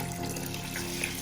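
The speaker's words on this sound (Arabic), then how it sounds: "والمي بقلب الطنجرة" Water pours steadily into a cooking pot holding lamb and spices being covered for broth, a continuous close splashing rush with no talk over it.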